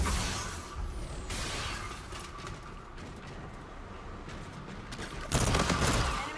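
R3K assault rifle fire in Infinite Warfare, dense continuous bursts of gunfire with a louder burst near the end, heard at moderate level with game ambience.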